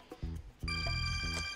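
A telephone rings with a bright, tonal electronic trill, repeating in short bursts over a faint low hum.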